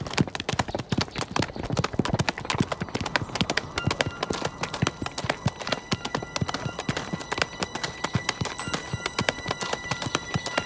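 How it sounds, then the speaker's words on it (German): Horse hooves clip-clop steadily and close in a Western setting, a dense rhythmic clatter of many quick strikes running for about ten seconds, with no talk over it. "Da vorne steht sein Pferd."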